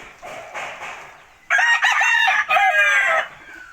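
A rooster crows loudly nearby, a long strained call following a softer lead-in cluck.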